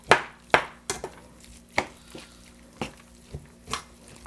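Hands mix grated carrots, chopped onions and ground pork for Filipino lumpiang shanghai, giving a string of soft wet squelches and slaps at an uneven pace, close up and quiet, with no one talking.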